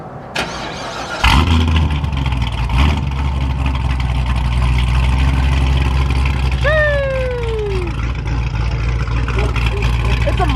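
A 1000-horsepower C7 Corvette Z06 with a mild cam fires up and settles into a loud, deep idle with a brief rev, close by, while people talk over it.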